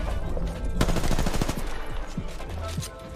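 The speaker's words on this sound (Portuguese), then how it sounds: "Dá um tiro, dá um tiro." Rapid automatic gunfire bursts from the battle royale video game Apex Legends, loud and close with sharp repeated cracks over a dense game soundscape, while players talk briefly.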